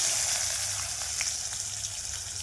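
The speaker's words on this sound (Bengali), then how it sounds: "এবার কাঁচা টমেটোটা দিয়ে দিলাম।" Raw tomato hits hot oil in a pan with panch phoron and a dried red chili, giving a steady, bright hiss of frying that fills the whole moment, close and fairly loud.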